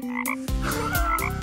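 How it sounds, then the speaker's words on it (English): A frog croaks in a few deep, throaty, rattling calls, close and loud, with no voices over it. "Yes, this is a frog."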